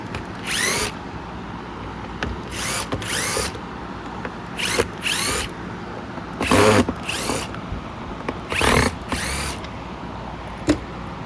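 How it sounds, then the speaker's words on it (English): A power drill backs screws out of a Bissell PowerForce Compact Turbo vacuum cleaner, giving about seven short, loud whirring bursts separated by brief pauses, with no talking. "And you just have all of these screws to remove."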